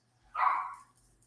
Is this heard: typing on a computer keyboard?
no